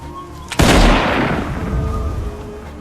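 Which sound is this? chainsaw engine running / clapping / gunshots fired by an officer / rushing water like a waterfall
gunshots fired by an officer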